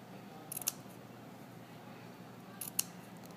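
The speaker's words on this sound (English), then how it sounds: "clipping is when I take my scissors, I put use just the tips, so make sure I'm not going to cut through my seam" Scissor tips snip into fabric along a sewing seam on an inward curve, a quick cluster of crisp clips early on and another pair later, close and fairly quiet over a soft room hiss.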